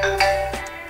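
A brief electronic alarm from a homemade alarm clock program built in Scratch, a bright tonal ringing chime that shifts pitch a couple of times within a second.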